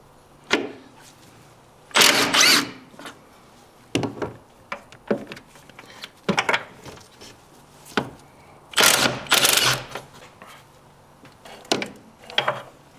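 A 14mm deep impact socket on a ratchet works loose the motor mount bolts of a 2017-2020 Hyundai Elantra, giving bursts of close, rapid ratcheting clicks separated by short pauses.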